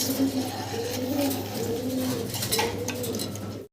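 Large fancy pigeons, including a big modern breed, coo repeatedly in soft throaty phrases over a steady low hum, with no talking.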